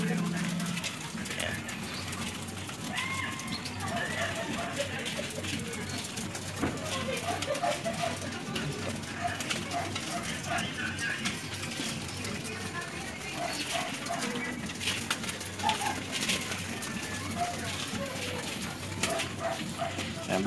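Young pigeons in a loft near a trap door, soft cooing and fluttering under someone speaking throughout, with occasional faint barking in the background.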